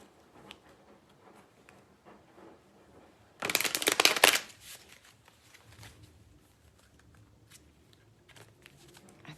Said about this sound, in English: I don't think I was supposed to shuffle that card in here.